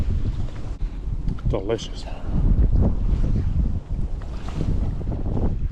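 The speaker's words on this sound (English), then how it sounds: "looks like it's just going to be windy all day" Strong wind blowing beside railroad tracks on a fishing outing, buffeting the microphone with low, gusty rumbles that surge and ease, while a person talks briefly over it.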